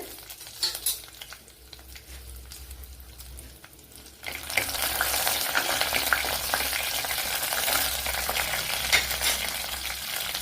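Dried red chillies and mustard seeds crackle in hot coconut oil. A quieter stretch gives way, partway through, to a loud, steady, close sizzle that holds to the end, with no voices.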